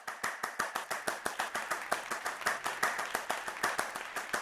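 A small audience claps in a steady, even rhythm, sharp hand claps repeating about six times a second, close and clear with no talk.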